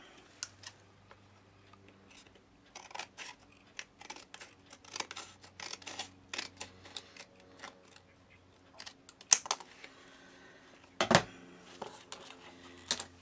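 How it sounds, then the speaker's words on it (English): Scissors snip through a cardboard flap in a string of quiet, close, irregular cuts and crunches, with a few louder snips near the end. "I've got this bigger flap again from where it tucked in, so we'll trim it"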